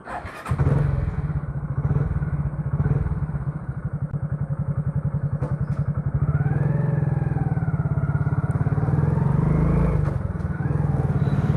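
A motorcycle starts and runs close by, its engine thumping in a rapid steady rhythm, then revving higher as it rides off through the gears.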